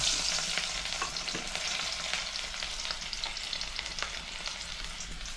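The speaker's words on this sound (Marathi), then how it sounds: "तेल तापला आणि त्याच्यात आता लसूण टाकला" Garlic sizzles in hot oil in a home kitchen for a Konkan mango raita, a steady close crackling hiss with light stirring scrapes throughout and no talk.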